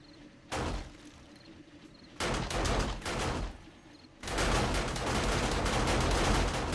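Rapid bursts of gunfire in the survival game 7 Days to Die Alpha 21 as a wandering horde attacks a base, several short loud volleys separated by brief pauses, ending in a longer continuous barrage.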